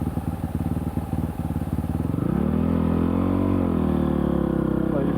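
A Honda CRF450 supermoto engine chugs at a pulsing idle, then is revved up into a steady, loud, close drone that holds and eases slightly.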